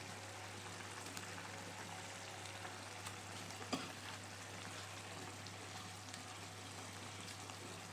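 Pieces of fried katla fish go one by one into a hot pan of sizzling gravy, making a steady, even frying hiss with a brief clunk midway and no talking.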